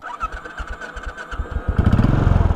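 A Royal Enfield Classic 500 motorcycle, which has no counterbalance shaft, cranks with a rapid series of pulses and then fires into a loud, thumping idle close by.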